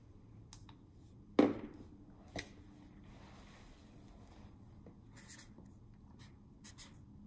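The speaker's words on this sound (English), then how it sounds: "So let me write that down." Pen writing down a pH test reading during an acidity test, heard as a few quiet, brief scratches and taps spread across an otherwise hushed background.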